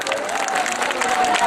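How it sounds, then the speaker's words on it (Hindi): An audience claps together at a mushaira, a brief burst of dense, loud, even applause filling the hall. "एक बार आप अपने लिए तालियां बजा दीजिए।"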